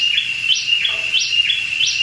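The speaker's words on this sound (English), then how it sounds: "There's a bird." A bird in the Costa Rican cloud forest repeats a bright, rising chirp about every third of a second, clear and fairly near, over a faint background hum of insects.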